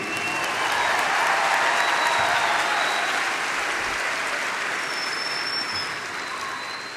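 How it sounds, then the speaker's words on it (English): Sustained applause from a large audience at a college commencement ceremony, a dense, steady wash of clapping that holds loud throughout and eases off slightly at the end. "one more round of applause for the BSU and the CWI ROTC"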